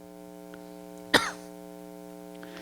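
A woman gives a single sharp cough, close and loud, standing out over a steady electrical hum and otherwise quiet room.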